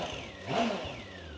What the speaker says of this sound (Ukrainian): Мотоцикл працює.